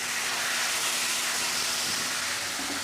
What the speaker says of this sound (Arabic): هقلبهم مع بعض